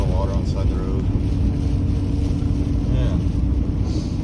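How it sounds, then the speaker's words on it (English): Strong wind of a storm on Cape Sable Island roars steadily and loudly against the microphone. A voice is heard briefly over the gusts. "You can hear the wind"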